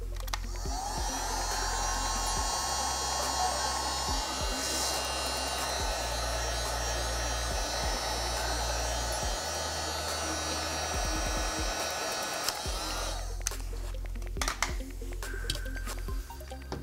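A heat gun blows a steady, airy whir while warming a dented Ferrari body panel during paintless dent repair, continuous and moderately close, with faint ticks and a pitch change near the end.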